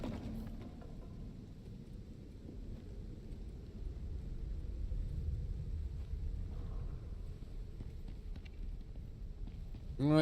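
A storm rumbling in the survival game Icarus, a low steady rumble that swells slightly and then holds, faint and distant.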